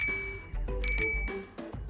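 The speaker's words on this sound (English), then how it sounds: "If you honk, it does ring the nice little bicycle bell." A bicycle bell in the video game Unturned rings several times in quick bright dings, each with a ringing high tone, over a low rumbling background.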